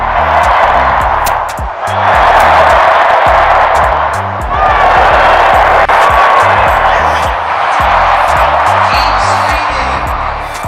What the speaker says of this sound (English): boos rang out across the crowd, cutting through the anthem